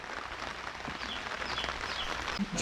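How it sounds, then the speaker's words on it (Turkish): Rain falls in a garden as a faint, steady hiss of drops pattering on surfaces, continuous and soft for a few seconds, with no talk over it. "Aha yağmur başladı yine."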